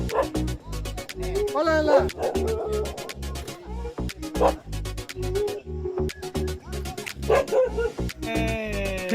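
A dog barks repeatedly, loud and close, in sharp bursts with yips and whimpers between them, on a road at Yelagiri hill station while people talk and move nearby.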